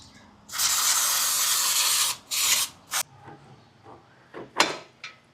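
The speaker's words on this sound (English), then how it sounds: "Now, this part we need to clean it with a brake cleaner." Brake cleaner sprayed from an aerosol can onto a Royal Enfield Classic 500 motorcycle part during a sprocket and damper job: one long loud hissing burst, then several shorter sharp spurts with quiet gaps.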